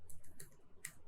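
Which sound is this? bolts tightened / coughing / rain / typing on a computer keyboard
typing on a computer keyboard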